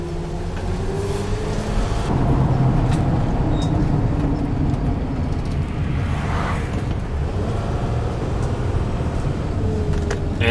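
A Dodge Sprinter van with a mass air flow sensor fault drives along the road, its steady engine drone and road rumble filling the cabin continuously at fairly loud level, with no talking.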